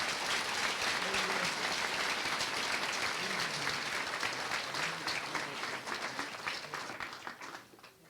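Sustained applause from an audience at a high school senior awards night, dense steady clapping that fills the room, with scattered voices and cheers mixed in, tapering off near the end.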